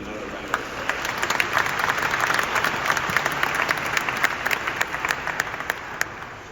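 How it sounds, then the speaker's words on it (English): Mourners at a congressman's funeral give sustained applause, a dense even wash of clapping from a large crowd that holds steady throughout. "Please give him another round of applause."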